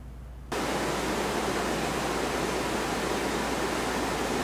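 AirDoctor air purifier switching on and running, a sudden onset of loud, steady broadband airflow hiss that continues evenly to the end, alone with no talking.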